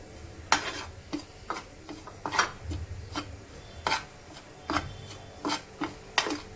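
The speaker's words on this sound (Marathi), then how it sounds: "खोबऱ्याला लालसर होईपर्यंत भाजायचं आहे आपल्याला" Grated coconut, ground in a mixer, dry-roasting in a pan while a spatula stirs it: a soft low sizzle broken by about a dozen sharp, regular scraping strokes close by, with no speech.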